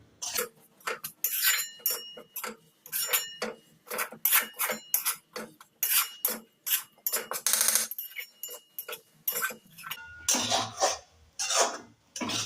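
Grated coconut is frying in ghee in a pan, and a spatula scrapes and stirs it in a quick, steady rhythm of close, loud scraping strokes with brief pauses between them.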